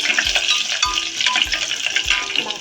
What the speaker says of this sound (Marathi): तेल तापलं की जिरे मोहरी टाकणार आहे